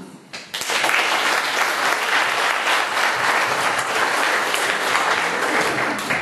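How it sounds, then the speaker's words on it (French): An audience applauds steadily to welcome a guest, Nicolas Audoul, at an evening about the secrets of magic. The sustained, dense clapping starts abruptly and fills the whole stretch, with no one talking. "je lui souhaite la bienvenue, et on l'applaudit"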